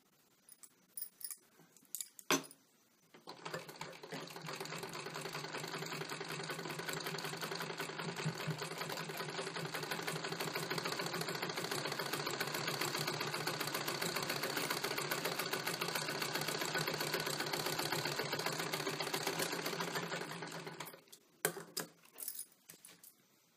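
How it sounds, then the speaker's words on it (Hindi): A sewing machine double-stitches a blouse in one long, uninterrupted run of nearly twenty seconds, steady and close but moderately quiet, with small clicks of handling at the start and finish. No one talks. "अब हम इसे डबल सिलाई कर लेंगे।"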